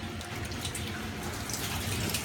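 Running water rinses a soil sample through a sieve, washing it down into a muddy slurry with a steady, close splashing rush and no talking.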